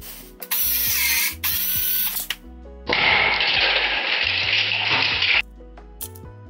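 A ratchet or driver clicks in short bursts while parts are unscrewed from a household electrical panel being redone: two quick close runs, then a longer steady stretch of ratcheting.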